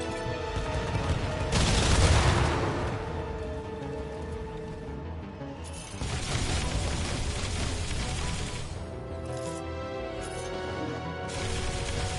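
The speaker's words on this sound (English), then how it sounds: "Incoming surface-to-air missiles!" Surface-to-air missiles streak in during the Iron Man VR video game, producing dense roaring blasts and rushing whooshes. A loud burst comes near the start and a second sustained barrage follows midway, with no voices.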